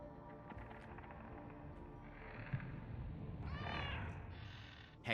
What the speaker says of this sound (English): Also, there's a cat.